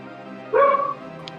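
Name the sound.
badger barking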